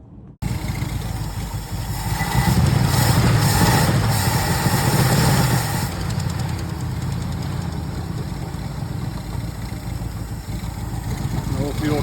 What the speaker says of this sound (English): It's just running off the carburetor right now.